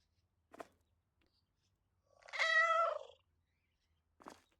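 A cat in the video game Supermarket Together gives a clear drawn-out meow between two short faint chirps, each sound alone against silence.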